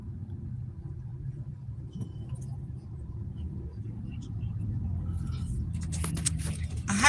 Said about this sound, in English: This traffic is bumper to bumper.